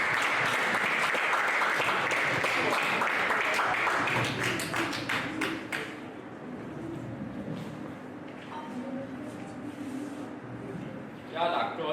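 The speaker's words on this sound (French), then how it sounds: "Ça s'applaudit s'il vous plaît." An audience applauds at a Rotary Club handover ceremony, a dense burst of many hands clapping that thins out and fades after a few seconds, followed by quieter room noise, voices and scattered claps.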